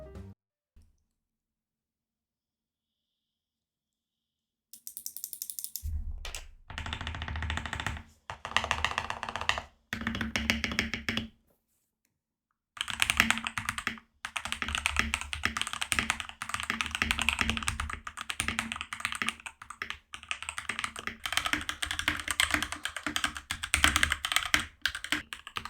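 Close, crisp typing on a modded budget mechanical keyboard, with dense clacky keystrokes in bursts separated by brief silences.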